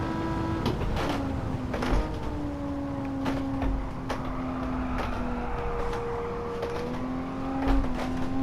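Porsche Carrera RS 95 in Gran Turismo 7, engine droning steadily while the car slides at low speed, pitch rising and dipping with throttle changes, plus occasional tyre and impact clicks, no voices.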